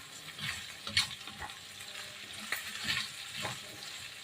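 Pork sizzling in hot oil in a pan for Ilocano igado, a steady close crackle with louder spits and the clatter of stirring throughout.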